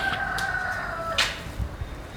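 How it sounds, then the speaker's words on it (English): A rooster crows once nearby, a drawn-out wavering call over steady background hum, followed by a few brief clucks or knocks. "Can this cock allow me talk without crowing to my shot?"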